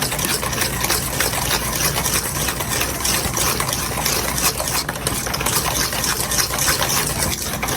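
A whisk beats an egg into blondie batter in a bowl, a continuous fast rhythmic scraping and sloshing, close and fairly loud without talk.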